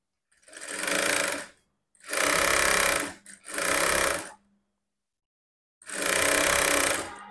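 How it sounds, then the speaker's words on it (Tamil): A sewing machine runs a straight stitch down the centre fold of a blouse piece in four close, loud bursts of steady whirring, with short silent gaps between them and a longer pause before the last burst. "இப்போ சென்டரில் ஒரு சரியான அளவு மடித்து ஓட்டு தையல் போட்டுக்கிறோம்."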